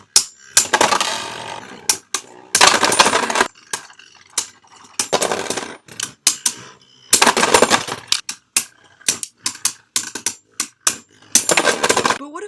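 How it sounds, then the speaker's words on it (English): Death Scyther Heavy Revolve, a stamina Beyblade, takes a flurry of sharp plastic clattering hits in bursts, with rapid cracks and scrapes separated by short pauses, loud and close. "the same Beyblade that you just saw explode a bunch of times, Death Scyther Heavy Revolve"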